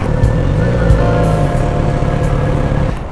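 Kawasaki Z900RS inline-four motorcycle engine idling or revving steadily at close range, a loud continuous drone with a stable pitch.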